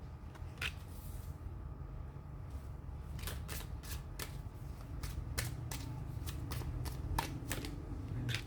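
Tarot cards are shuffled by hand in a quiet room, a run of crisp riffling snaps and flutters, sparse at first and then quicker and denser, close and clear with no talking.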